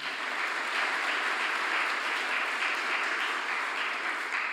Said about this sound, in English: give an applause to Tina